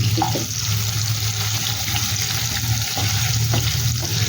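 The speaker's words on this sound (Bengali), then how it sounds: "আলুটাকে একটু ভালো করে ভাজা হতে দিতে হবে" Potatoes frying in a pan for a potol and prawn curry, a steady close sizzle with a low hum beneath and a few faint clinks, no talking.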